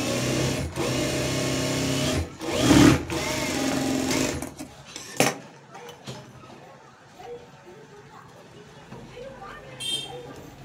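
A sewing machine stitching a fold along the top edge of blouse fabric, running in short loud bursts with pauses and fabric handling between, close up; a voice talks at times.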